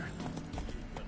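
Roach, a horse in The Witcher 3, gallops in a steady clip-clop of hooves, fairly close and loud, over a continuous low game background rumble.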